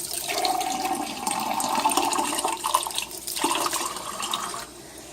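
Water pours out and drains noisily down a kitchen sink, a close, steady gurgling rush that eases off toward the end, with no voices.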